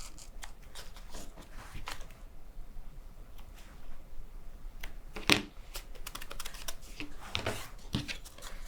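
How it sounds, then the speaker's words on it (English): Quick, crisp snips of scissors trimming crepe paper for a paper dahlia, in short irregular bursts, close and fairly quiet, with a few louder crunches along the way. "I'll just take my scissors and clean it up."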